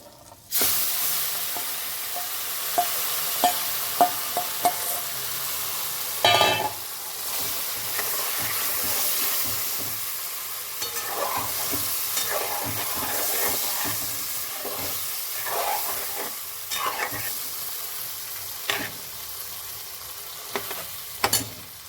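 A vegetable curry seasoned with salt and red chutney sizzles steadily in a pan while a spoon stirs it, giving repeated scraping clatters over a continuous hiss, close and fairly loud, with no voices.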